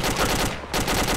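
Sustained automatic machine-gun fire in the military video game ArmA 2 with the ACE mod: a dense, continuous burst of rapid shots, loud and close, lasting just over a second with a brief dip midway.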